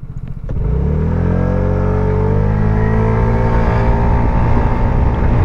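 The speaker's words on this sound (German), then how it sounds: "Ich kann jetzt noch mal kurz auf 50 beschleunigen." A Vespa GTS 125 scooter accelerates to 50 km/h: a loud, close engine drone rises steadily in pitch after a short idle, with strong continuous wind and road rumble underneath.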